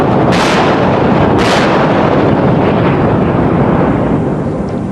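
Two massive blasts from the 16-inch guns of the Iowa-class battleship USS Wisconsin (BB-64) roughly a second apart, each a sharp deafening boom rolling into a long, dense rumble that fills the whole stretch without any voices.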